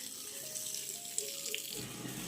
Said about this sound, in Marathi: आता पाणी मारायचं काम चालू आहे